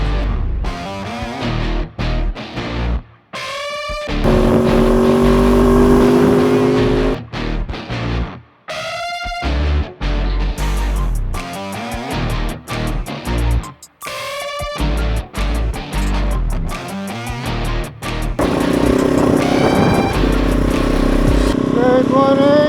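A Kove 450 Rally motorcycle with a full 15-liter tank ridden on a long ride in Africa, its engine loud and close as it revs and pulls through repeated gear changes, with strong wind buffeting throughout.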